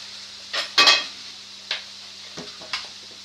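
A knife cutting into a potimarron squash, a few distinct sharp chops and clicks against a board over a quiet steady hum, with no talking.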